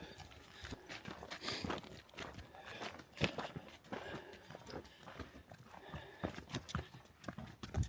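Donkeys walking on the island of the Sun in Lake Titicaca, Bolivia, their hooves clip-clopping in an irregular shuffling rhythm at close range, with no talk over it.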